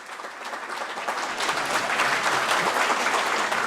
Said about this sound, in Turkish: Bir kez daha tüm öğrencilerimize kocaman bir alkış.